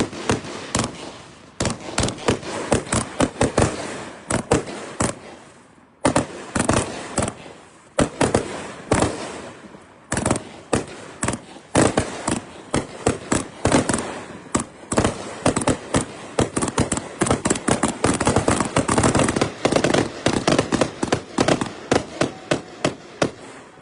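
Fireworks at a Wild Willy's Fireworks 2023 demo shoot, firing as a dense, continuous volley of sharp crackling bursts and rapid pops for more than twenty seconds, with only a couple of short pauses.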